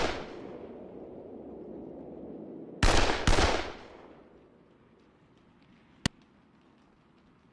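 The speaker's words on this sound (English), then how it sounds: "We'll just have our guys shoot at them." Gunfire in the Poland '39 strategy game: a short, loud burst of rapid shots cuts through quiet background, followed later by a single sharp crack.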